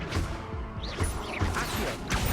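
A wizard's disarming spell is cast in a Harry Potter video game, a few quick whooshing swishes and crashing impacts in rapid succession over about two seconds, with no voice over it.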